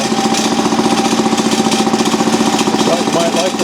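A shaper machine idling steadily, a loud continuous mechanical drone with a rapid regular chatter that holds even throughout, close by.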